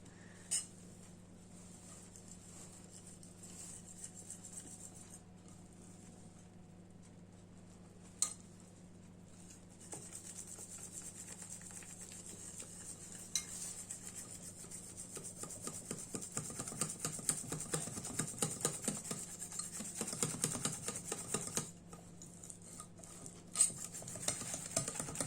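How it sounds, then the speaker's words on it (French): A spoon scrapes and rubs steadily around a bowl as yeast is worked into flour, soft gritty stirring that grows busier toward the end, quiet and close. "je vais mélanger aussi ma levure dans ma farine"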